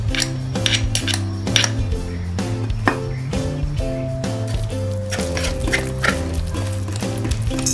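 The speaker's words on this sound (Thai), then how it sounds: "เดี๋ยวเรามาตักใส่ถ้วยกันครับผม" Spoon scraping and clinking against a dish while scooping Thai crab chili paste, nam prik nam pu, into a bowl, repeated close metallic taps over a steady background of tonal music.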